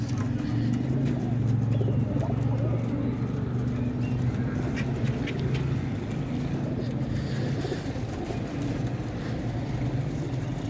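Soft pigeon cooing in a low, droning murmur beneath steady ambient noise, continuous and fairly close, with no clear pauses.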